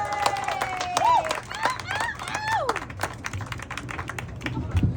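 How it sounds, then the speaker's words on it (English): Audience applause at an open mic spoken word night, scattered clapping mixed with whoops and shouts from a close, lively crowd, with a voice talking over part of it. "Y'all give one more round of applause for just Rach"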